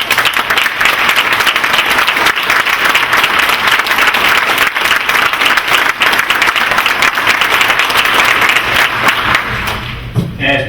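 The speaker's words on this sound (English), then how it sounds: "So can you please give Congressman Scott another round of applause?" Sustained audience applause for Congressman Bobby Scott at an award luncheon, dense steady clapping from a full room lasting about ten seconds before fading at the end.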